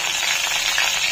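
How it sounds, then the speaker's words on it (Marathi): Mustard seeds, cumin and curry leaves sizzle in hot oil in a kadhai for tempering, a brief, dense, loud crackling hiss. "तर कढईमध्ये तेल गरम करायला ठेवलेलं आहे। यामध्ये राई जिरं फोडणी,"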